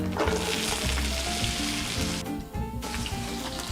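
Onions sizzle and fry in olive oil in a pan, a loud, steady crackling hiss that runs throughout with occasional stirring noises and no talking.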